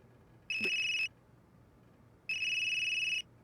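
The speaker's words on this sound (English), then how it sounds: "That geezer's phone is ringing." A phone rings in the video game Unheard in two clear electronic bursts, the first about half a second long and the second longer, separated by a short quiet gap, alone with no talk.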